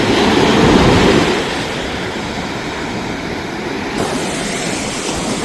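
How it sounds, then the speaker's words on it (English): Big ocean waves at Surf City Beach in the Outer Banks roar steadily with broadband surf noise, loudest in the first second and a half and then holding as a continuous wash. "The waves are very big."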